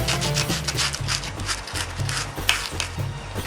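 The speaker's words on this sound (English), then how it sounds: "just take some basic sandpaper and just sand it down to make it a little smoother." Rhythmic rubbing strokes of sandpaper smoothing a drilled hole scrape back and forth against a hard surface, steady and close, with no talking.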